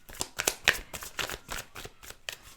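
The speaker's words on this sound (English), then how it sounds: "Let me just grab some tarot. I do not pick my cards" Tarot cards are shuffled by hand, giving a series of quick, crisp riffling and slapping bursts in an uneven rhythm, close and clear with no talk.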